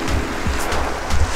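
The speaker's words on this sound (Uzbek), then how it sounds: "Mana shu dengiz, oq dengiz." Waves on the Mediterranean shore at Antalya, Turkey, on a windy winter day roll in as a steady, close surf wash with low rumbling surges and gusty wind noise across the microphone.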